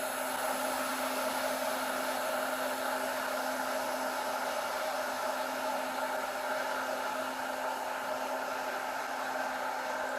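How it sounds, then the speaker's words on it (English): An oil-lubricated air compressor runs at about 100 PSI, a steady, loud broadband whir with a constant tonal hum, unchanging throughout and with no voices. "Now, when this compressor is running"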